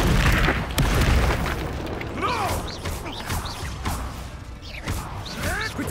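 A blasting-spell explosion in the wizarding video game Hogwarts Legacy: a heavy boom at the start, then debris crashes and whooshing magical effects, with a few chirpy game sounds over a rumbling background.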